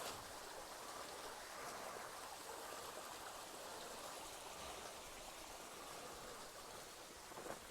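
A small stream burbles and trickles steadily throughout along the Appalachian Trail, a continuous nearby flow of water with no voices.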